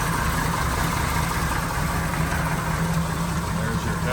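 A 1974 Chevrolet Camaro Z28 with its original matching-numbers engine and dual exhaust idles steadily, a continuous low rumble with an even, unchanging level throughout and no voices.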